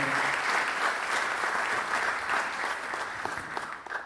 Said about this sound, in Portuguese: Uma salva de palmas também para a Sofia Tenreiro.